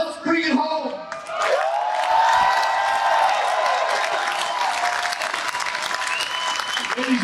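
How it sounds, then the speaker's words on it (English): A crowd at a Pierre Poilievre political rally in Brampton breaks into loud, sustained applause after about a second, dense clapping mixed with whoops and shouts that carries on to the end. "a round of applause for Adrian Woolley"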